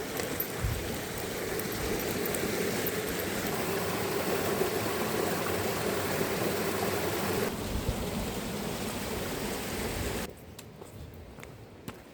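A stream flowing in the rain at Boonoo Boonoo, a dense steady rushing wash of water and rainfall that holds loud and even, then drops noticeably quieter near the end.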